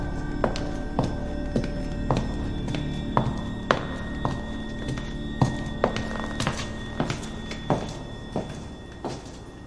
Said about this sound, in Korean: 발소리가 울려 퍼졌다